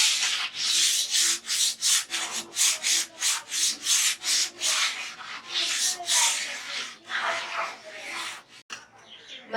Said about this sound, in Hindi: तो इसे हम वहाँ पे हम रेगमार को हल्का हल्का हाथों से इस तरह से करेंगे